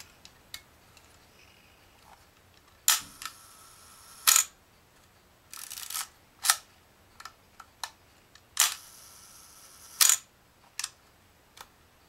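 Several sharp mechanical shutter clicks from a Vivitar 250/SL film camera fire at irregular intervals, some in quick pairs, close up in an otherwise quiet room.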